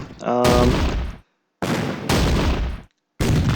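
Crossfire in the Battle Academy 2 wargame on the Eastern Front in November 1941 comes as three loud, dense bursts of gunfire separated by short silences, after a brief voice at the very start.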